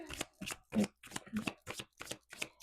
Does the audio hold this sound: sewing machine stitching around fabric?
no